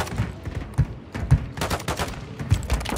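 Several sharp gunshots ring out at irregular intervals in a first-person shooter match, fairly close and punchy over a busy game backdrop.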